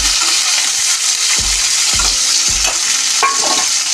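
Chopped onion and green chilli frying in a pan for chilli chicken, a constant loud sizzle with several distinct spatula scrapes and knocks against the pan, close up, no talking.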